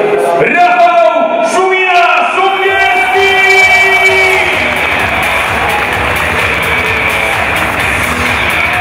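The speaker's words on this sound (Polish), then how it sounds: "Tego to Szanowni Państwo, wielkie brawa" A crowd at the KS ROW Rybnik speedway team presentation bursts into loud, sustained applause and cheering, swelling after a voice rings out over the hall.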